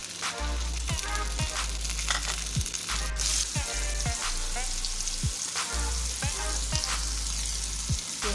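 Chicken with tomatoes and green chilies sizzles and fries in hot oil in a pan, a steady crackling hiss with repeated scraping stir strokes, close and continuous with no talk.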